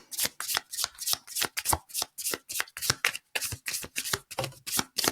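Oracle cards being shuffled by hand, a steady run of crisp riffling bursts in a regular rhythm, close and fairly quiet, with no talking.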